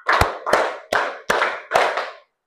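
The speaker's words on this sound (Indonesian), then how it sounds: "tepuk 5 2 kali." Students in a classroom clap together in counted time, five crisp, loud claps at a steady pace of roughly two per second, then silence, with no voices.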